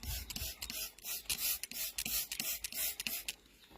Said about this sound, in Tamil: இப்ப நான் ஸ்ப்ரே பண்ணதே நீங்களே பாருங்க.